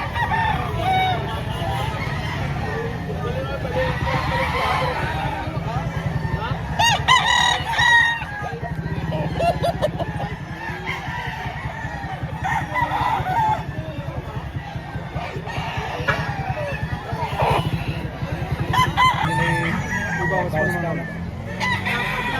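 Roosters crow repeatedly at a chicken market in Lipa, Batangas, their calls rising over a constant murmur of clucking birds and people talking nearby.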